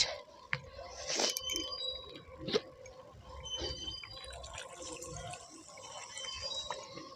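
Water pours from a jug into a pan of desi chicken curry with potatoes, giving a bubbling, splashing trickle with a couple of knocks as the jug meets the pan.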